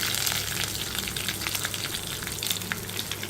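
Curry leaves and turmeric fry in hot oil for a Moovandan mango pickle, giving a steady, close crackling sizzle with brief pops throughout and no voice.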